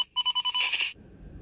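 A Quancheng UV-K5 handheld radio with faulty squelch receives on GMRS, giving a short run of pulsed electronic beeps that merge into a steady tone and then cut to faint hiss.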